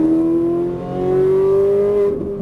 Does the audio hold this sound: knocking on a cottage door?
no